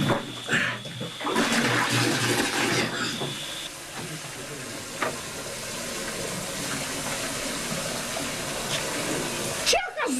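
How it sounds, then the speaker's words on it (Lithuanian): Water runs steadily with a broad rushing hiss, like a tap filling a bathtub, louder at the start and continuous throughout. "Tu kaip čia vandenį leidi?"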